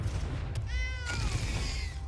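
A cat meow sound effect plays as a Shadow Cat is cast in Magic: The Gathering Arena, a single rising and falling mew heard clearly over a low background hum.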